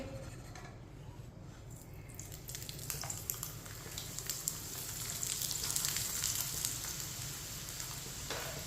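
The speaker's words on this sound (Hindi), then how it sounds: "थोड़ा सा ना ऑयल लगा लेंगे ऊपर, इसे उल्टा लेंगे।" A roti paratha sizzles and fries steadily in oil on a pan, a continuous crackling hiss that grows slightly louder and denser midway, with no talking.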